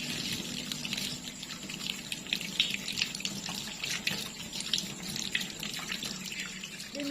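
Hands rinsed under a running tap during a school sanitation handwashing demonstration at SMP Negeri 2 Limboto, a steady close splash of water into a sink lasting the whole stretch, with no talk.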